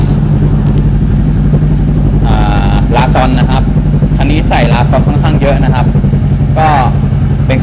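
A 2018 Honda CBR500R motorcycle idles with a real carbon-fibre exhaust, a loud, steady engine rumble throughout while someone talks over it in short bursts.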